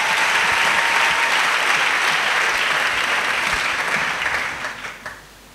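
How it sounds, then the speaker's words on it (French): Applause from a church congregation, a dense steady clapping that holds for about four seconds, then thins out and fades away to near silence. "A clap offering to Jesus Christ."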